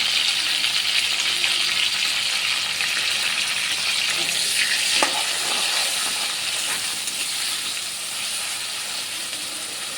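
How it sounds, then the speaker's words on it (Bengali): Onion paste with garlic and ginger paste fries in hot oil, giving a steady, bright sizzling hiss that stays loud and constant throughout, fading only slightly toward the end. "এখন আমি পেঁয়াজটা ভালো করে ভেজে নেব"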